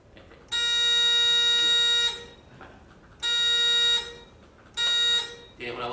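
A horn on a programmable logic controller training panel blares in three long, loud electronic bursts of a harsh, buzzy tone separated by short gaps, with faint background sound in between.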